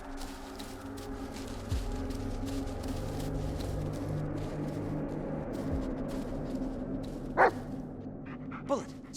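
A dog barks twice within the Blair Witch video game, short sharp yelps rising over a steady low ambient drone of the game's wooded setting, with no talking.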